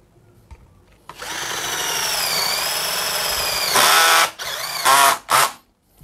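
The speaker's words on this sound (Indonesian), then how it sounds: "Saya menggunakan mode screw, speed 2, mungkin torsinya 8 ya." A Mollar 12-volt cordless drill in screw mode drives a screw into lightweight steel framing panels. A steady, whining motor runs for several seconds, ending in louder clutch-slipping bursts and two short final pulses, with no talking.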